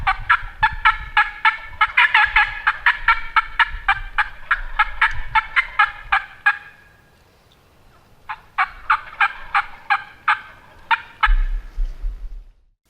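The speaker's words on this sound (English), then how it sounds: "From the sound of all that gobbling," Wild turkeys gobble repeatedly at a turkey-hunting setup in trees at daybreak, a dense overlapping chorus of loud rattling gobbles for several seconds, a pause, then another burst of gobbling with some low rustling near the end.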